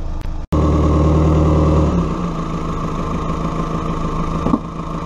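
A Toyota car engine idles steadily while warming up ahead of an oil change, with a close, even mid-pitched hum and a brief dropout near the start followed by a slight shift in tone.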